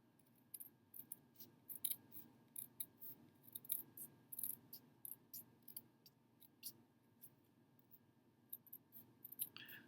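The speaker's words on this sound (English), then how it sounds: "if you cut this, this is why I love paper snips" Paper snips slicing thin strips of green paper, a rapid series of crisp close snips in uneven bursts with brief pauses between them, heard alone.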